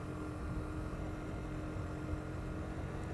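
A 2022 Sinnis SM-XE 125cc motorcycle runs in second gear off road on a steep hill, its engine a steady, low droning hum that holds even and close throughout with no talk.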